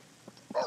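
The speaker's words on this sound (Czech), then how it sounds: "Ten pes zase řve." A dog in the life-simulation game The Sims 3 gives a single quick, faint bark-like yelp after a couple of tiny yips, all within a fraction of a second.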